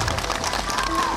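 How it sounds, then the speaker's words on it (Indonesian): A crowd of activists and supporters at a political rally in Indonesia applauds with dense, continuous clapping and cheering, a broad wash of sound with a faint tone running through it. "beri tepuk tangan dong buat para aktivis di sini"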